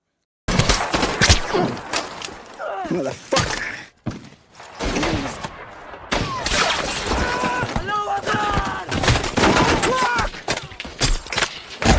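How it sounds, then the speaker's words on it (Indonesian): Bursts of gunfire crackle repeatedly in a war film battle scene, close and loud, mixed with shouted voices and chaotic thuds. "ada beberapa tembakan yang mengenai mereka"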